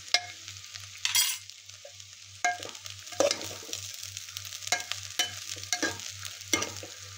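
Spoon scraping and stirring rice with salt in a cooking pot for veg biryani, a series of sharp scrapes and clinks roughly every second over a faint steady hum, close and fairly loud.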